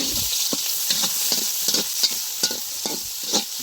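Onions sizzling and frying in hot mustard oil, with a steady bright hiss and repeated stirring scrapes at an even rhythm, close and moderately loud, with no voices.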